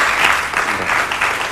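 Audience applause fills a short stretch at a talk, a steady, dense wash of many hands clapping at close range with no voices over it.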